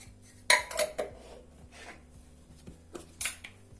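A metal spoon clinks against a bowl as salt is measured in for homemade naan dough, one bright clatter followed by softer taps and light scraping, close and quiet, with no talk.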